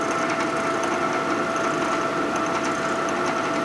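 Steady, dense machining whine from a cutting tool spinning at about 1500 RPM on a 1946 Harley-Davidson Knucklehead 84ci stroker motor part during a rebuild, continuous and close without pauses.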